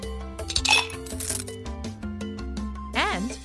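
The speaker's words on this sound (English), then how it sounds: "Drop in some ice cubes." Bright clinking plinks of ice cubes dropping into a glass of iced coffee in a mobile game, over cheerful game music, ending with a rising cartoonish sound effect.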